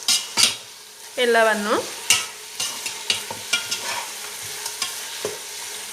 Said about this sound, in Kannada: ಈಗ ಇದನ್ನು ಫುಲ್ ನಾವು ಕರೆಕ್ಟ್ ಮಿಕ್ಸ್ ಮಾಡುವ